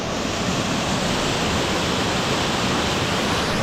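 The upper Blue Waterfall near Sliven, Bulgaria, roars loudly and close as a constant dense rush of falling water, with no talking.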